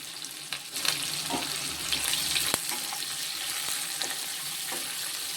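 Onions and curry leaves fry in oil in a pan for a fish curry, a steady close sizzle with occasional light scrapes and pops, continuous and fairly even throughout.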